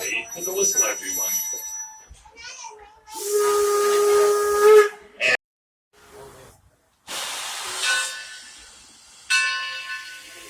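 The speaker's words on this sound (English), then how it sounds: "The engineer will give a blast of the whistle, and that means the air brake is set." Steam locomotive whistle at Greenfield Village sounds one long, loud sustained blast with strong harmonic tones, signalling the air brake is set, followed by hissing steam and train noise, with people talking faintly before.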